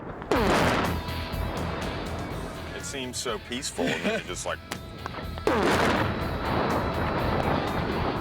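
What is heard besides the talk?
cement truck filled with 850 pounds of ANFO explodes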